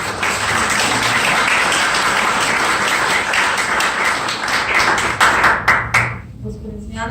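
Loud room-filling applause at a memorandum signing between two civic initiatives, dense clapping that thins into a few scattered, sharper claps near the end before dying away.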